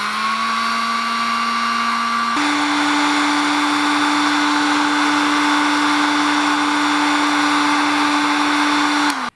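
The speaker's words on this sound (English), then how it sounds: "with a heat gun you can just shrink it" Heat gun blowing hot air to shrink heat-shrink tubing over a battery cable, a loud steady electric whir and airflow that steps up in pitch partway through and cuts off at the end.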